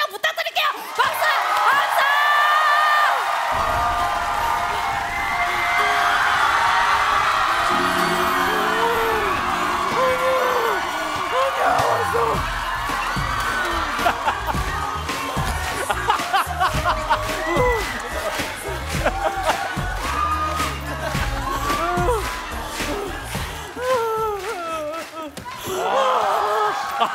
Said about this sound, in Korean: 여러분 박수 한 장 부탁드릴게요